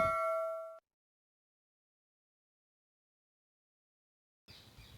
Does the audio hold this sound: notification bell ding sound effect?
yes